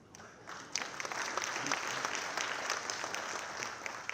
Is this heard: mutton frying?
no